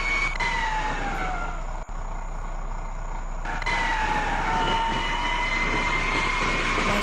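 A train passes in a bus-driving video game, a steady, loud mechanical rumble with sustained tonal whines that dip briefly before returning, heard alone without talk.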